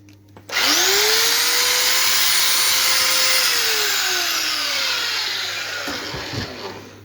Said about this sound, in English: this is the noise of my said sander